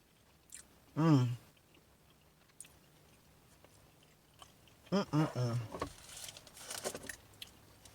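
Someone eats air-fried vegan penne pasta with non-dairy cheese in a mukbang style. Quiet, close chewing and soft mouth sounds come between short bursts of voiced humming or talk.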